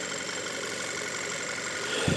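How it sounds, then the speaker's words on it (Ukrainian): Petrol 2.0 TFSI engine of a 2018 Audi Q3 running steadily at idle, a close, even low hum with a slight rise in revs near the end and no talk. "двигун починає газувати"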